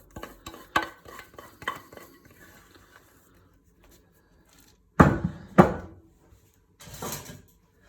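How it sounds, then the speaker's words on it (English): Baking mix scraped from a mixing bowl onto parchment paper gives a run of close scraping and knocking strokes, a quiet gap, then a few louder sharp scrapes and a softer final one. "Just get a better tool for scraping the side of my bowl."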